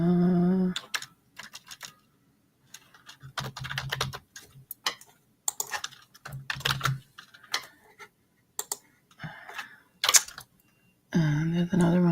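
Bursts of keystrokes on a computer keyboard come in short, irregular clusters, close and fairly crisp, separated by pauses and interleaved with someone talking.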